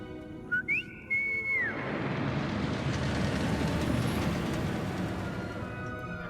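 A short rising whistle followed by a longer sliding one sounds in Hogwarts Legacy, clear and close, before giving way to a loud, rumbling rush like a moving vehicle that fills the rest of the clip.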